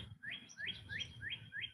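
A small bird gives a run of five quick, evenly spaced rising chirps, fairly close and clear over a low background rumble.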